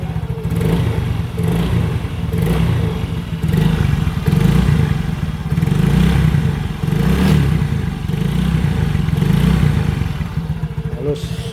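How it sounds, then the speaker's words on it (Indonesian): A 2013 Yamaha Mio J motor scooter engine idles and revs steadily up close, its low rumble rising and falling with a light mechanical clatter, no voices heard. "Halus, suara mesinnya halus banget."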